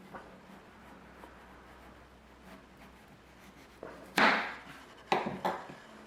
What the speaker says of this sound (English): let's see if we can just slice a thin peeling off with a chit on it